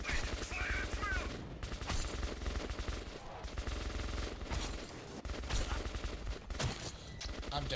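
Sustained automatic gunfire in the video game Metro 2033, with dense, loud volleys of shots overlapping almost continuously, broken by a few brief gaps.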